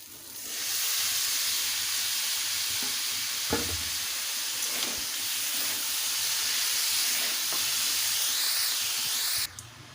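Boiled banana flower frying in a hot pan for a vegetarian mochar ghonto, giving a steady close sizzle with a few stirring clatters partway through before the sound cuts off abruptly near the end.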